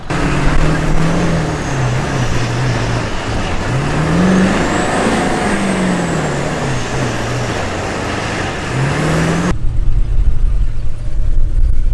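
An old vehicle with a 7.3 engine labors up a bumpy hill in two-wheel drive, its engine droning loudly and rising and falling over the climb before cutting to quieter rumbling near the end.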